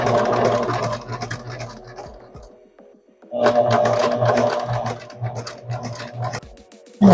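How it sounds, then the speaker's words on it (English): A sewing machine runs a zigzag stitch down a bridal veil, a close steady hum with rapid needle ticks in two bursts separated by a quiet pause, with faint background coos. "now we're just going to do a quick zigzag. And we're going to do a 3 width, 3 length. And we are going to lock that stitch."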